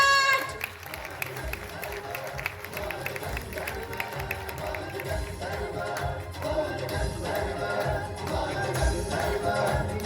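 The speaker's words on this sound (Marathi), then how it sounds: "जोरदार टाळ्यांचा कडकडा" A theatre audience applauds and cheers steadily over loud orchestra music, the clapping holding through the whole stretch and swelling toward the end.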